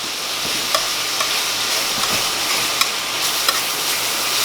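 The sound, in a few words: gravy cooking and sizzling in a pan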